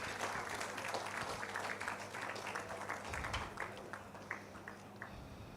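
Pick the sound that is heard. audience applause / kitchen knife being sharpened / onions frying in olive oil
audience applause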